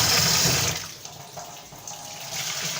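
Drumsticks (moringa pods) rinsed in running water from a tap, a steady close splashing gush that is strongest at first, then eases to a softer trickle and slosh with no talk.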